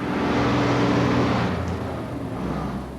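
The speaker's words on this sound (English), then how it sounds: "The main source of this noise is heavy lorries." Heavy lorries in road traffic, a loud continuous low engine rumble close by that eases off halfway through into a lower, steadier drone.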